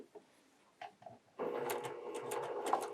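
Sewing machine stitching a curved patchwork seam under a quarter-inch foot, running in a steady continuous whir from about halfway through after a few soft handling taps, fairly close.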